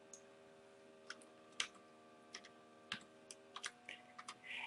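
Someone types on a computer keyboard while working in Excel: quiet, irregular clicks and taps, some in quick pairs, over a faint steady hum.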